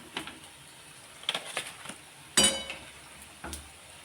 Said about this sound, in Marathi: तर एकदम मस्त असे आपले वडे तळलेले आहेत